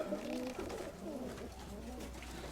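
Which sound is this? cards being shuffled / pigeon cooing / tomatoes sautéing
pigeon cooing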